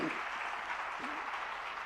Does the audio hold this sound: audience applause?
yes